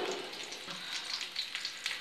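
Sausages frying in a pan for an omelette, a close, continuous crackling sizzle with small bursts of spitting fat and no talking.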